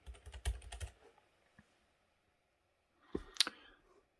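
Two short bursts of typing on a computer keyboard, close and crisp, separated by a quiet pause, with a faint isolated click in between.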